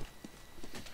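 Quick running footsteps from a player in a competitive shooter, a brisk series of soft thuds in an even rhythm, faint and near, with no talk.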